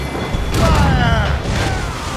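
Cannon fire from sailing ships in a naval battle in the video game Assassin's Creed Rogue: two heavy, rumbling booms about a second apart, each swelling and then decaying into a broad roar of battle noise.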